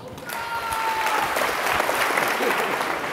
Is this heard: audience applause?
yes